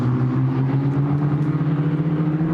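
An ADAC Formula 4 race car drives at the Nürburgring, its engine a steady, loud, buzzing drone with strong harmonics that holds at a constant pitch throughout, with no voices.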